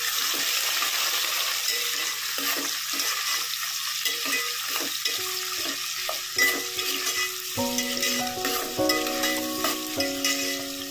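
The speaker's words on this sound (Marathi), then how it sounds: "आता आपण कांदा टाकला आहे," Onions fry for a Marathi-style mutton bhaji, a steady close sizzle with frequent scraping stirs and clinks of a spoon against the pan throughout.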